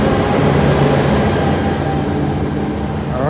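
A new CRRC passenger train runs along the track, a loud, continuous low rumble with steady rolling drone and slight pitch shifts, heard from on board with no talk.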